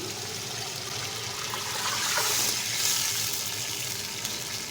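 Water poured from a glass into a pot of cooking chicken pulao gives a steady, continuous splashing rush that swells slightly in the middle and stays fairly close, with no talking.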